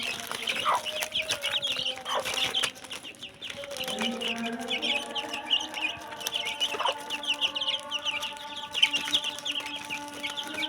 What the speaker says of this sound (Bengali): এখন আমি আমার মুরগির বাচ্চাকে পাতাগুলো দিয়ে দিব, দেখবেন কত সুন্দর খায়